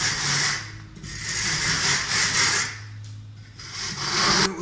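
A sanding pad grinds steadily across a Milestone "Bergamo" floor tile slab, a continuous close-up rubbing rasp that swells and eases in long strokes with no talking.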